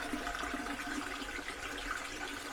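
Toilet cistern refilling with water in a mobile home from England, a steady hissing rush of water running continuously at moderate level without talk.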